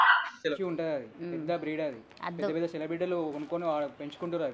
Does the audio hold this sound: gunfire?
no